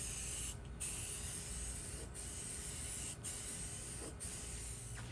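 Automotive primer hisses from an aerosol can onto a rusty Atlas industrial tool cart, a continuous close spray broken by four brief gaps where the nozzle is released.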